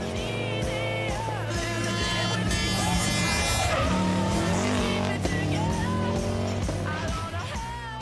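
Subaru Impreza rally car driving a stage at the Rallye Mont Blanc, its engine loud and continuous with rising and falling revs through gear changes, and voices speaking over it throughout.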